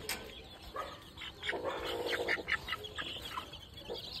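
Chickens at a home coop give short, bright clucks and calls that rise and fall close by over a steady background hum, with faint voices in the background.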